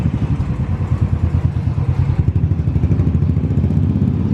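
A Royal Enfield Continental GT 535 motorcycle, kick-started after sitting and with a rocker arm needing adjustment, idles close by with a rapid, even thumping pulse and faint mechanical clatter.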